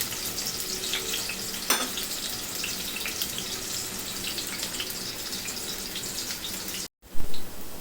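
Onions frying in oil until golden for a Bengali beef mumtaz, a steady hissing sizzle that runs close and continuous, with a brief clink near the middle and a clatter near the end.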